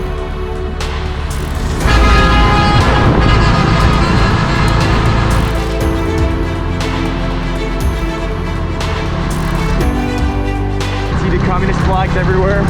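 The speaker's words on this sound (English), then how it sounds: "The trucks honk all the time." Traffic on a road in northern Vietnam, with trucks and cars sounding their horns in repeated blasts over a continuous engine rumble, loud and close, with talk heard over the noise.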